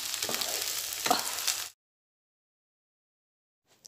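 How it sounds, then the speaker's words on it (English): Prawns sizzle in a hot pan, a steady close frying hiss with a couple of stirring scrapes, then it cuts off into silence. "After adding the prawns, we have to fry it for 1 or 2 minutes."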